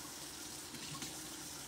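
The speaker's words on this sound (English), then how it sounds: "It'll do with ice, so just adding the water there." Water is poured into a bowl of ice, a faint, steady hiss and splash that keeps going without a break and has slight clinking bumps near the middle.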